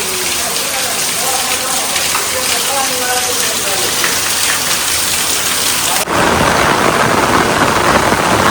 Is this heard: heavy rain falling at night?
yes